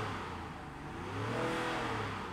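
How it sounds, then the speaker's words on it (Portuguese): A 2023 Range Rover Sport's engine revs in dynamic drive mode, a steady mid-low drone that rises in pitch and loudness partway through, heard from inside the cabin with no voices. "o barulho do motor é de busão"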